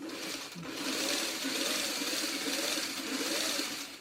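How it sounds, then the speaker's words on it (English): A sewing machine stitches quilt blocks in a steady, fast mechanical whir with a faint rhythmic pulse, close and continuous for a few seconds without talk. "we'll get the other block sewn up here right away"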